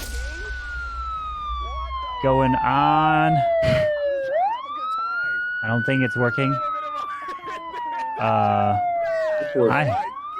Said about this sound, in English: As we're hearing the sirens